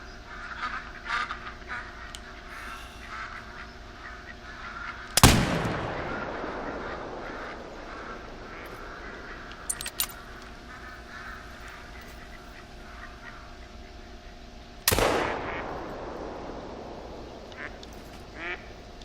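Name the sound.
ducks quacking in hunting video game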